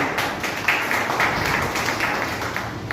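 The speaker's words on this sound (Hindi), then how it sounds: "पर जोरदार तालियां।" Seated event audience breaks into steady applause, a dense patter of many hands clapping at once, loud and even throughout with no pauses.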